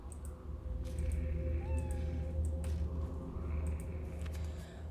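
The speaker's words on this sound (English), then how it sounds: "A pirate cat." A cat meows a few times in the video game Dark Alleys Penumbra Motel, short mid-pitched calls over a steady low game hum.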